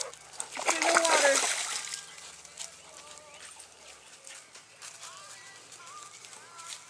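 A dog swimming in a muddy pond churns up a loud, close splashing burst early on, then softer sloshing continues while people talk and call out nearby.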